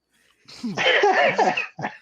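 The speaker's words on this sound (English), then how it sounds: "I coughed." A person coughs once in a rough, throaty burst, followed by a short second cough, close to the microphone on a gaming podcast.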